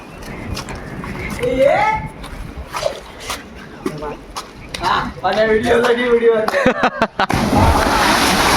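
Boys swim in a village well, with a splash as one jumps in among excited voices and shouting, water sloshing nearby.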